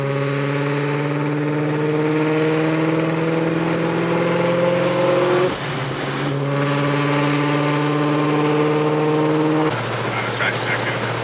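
Car engine held at high revs while spinning tires in second gear at a South Florida car meet, a loud sustained tonal roar with a brief dip midway and a drop in pitch near the end.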